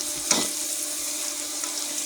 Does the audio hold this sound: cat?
no